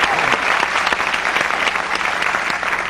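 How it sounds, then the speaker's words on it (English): Studio audience applause on a celebrity game show, a loud, dense and steady clapping that carries on without a break and without any voices over it. "applauding for the competition"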